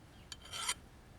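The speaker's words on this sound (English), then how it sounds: "I'm just gonna knock off some of these burrs where people have been using her for a hammer." Metal rasping as a file scrapes burrs off an old hatchet head, a short stroke followed by a longer grinding pass, close and alone.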